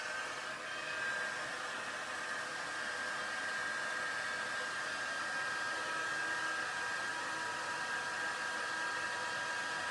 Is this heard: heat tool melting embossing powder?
yes